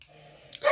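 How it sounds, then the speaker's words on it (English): Dogs bark nearby, with one sharp bark bursting out at the very end after a faint, whimpering stretch. "sorry about the dogs"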